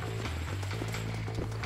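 Horse hooves clip-clop in the Red Dead Redemption video game, a steady close trotting rhythm over a constant low background hum, with no talking.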